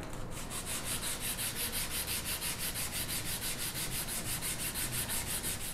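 Rhythmic hand sanding strokes on a wooden tissue box, close and even, a continuous scratchy rubbing with regular back-and-forth pulses and no talk.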